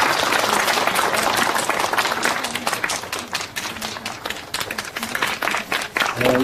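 A hall audience at a literary award ceremony claps in sustained, dense applause, loud and close, holding steady for several seconds with slight swells.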